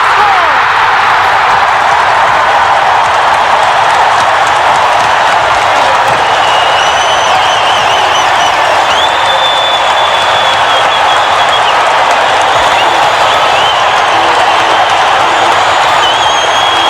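Steady roar of an arena crowd cheering in the NHL '94 hockey video game, Edmonton Oilers at Calgary Flames, a loud continuous wash of fans holding for the whole stretch without letup.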